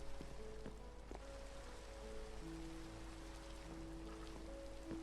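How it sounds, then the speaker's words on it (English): Rain falling in Minecraft Sky Block, a faint steady patter and hiss throughout, with soft tonal game sounds drifting over it. "And of course it starts raining."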